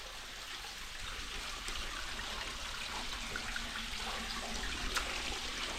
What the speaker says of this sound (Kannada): ನೀರು ಹರಿತಾ ಬರ್ತಾ ಇದೆ.